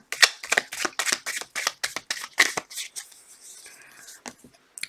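Tarot cards being shuffled in quick bursts of crisp riffling and flicking, a rapid string of sharp papery snaps close to the ear, then a quieter slide of cards near the end.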